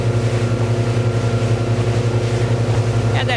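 A Bimax Alchimia 28 motorboat's engine drones steadily and loudly at close range, a constant low rumble with a rhythmic pulsing throb and tonal harmonics, holding even throughout with a brief higher swish near the end.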